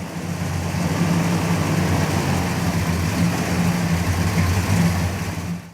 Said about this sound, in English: he's got an aftermarket Flowmaster exhaust, which I think sounds great.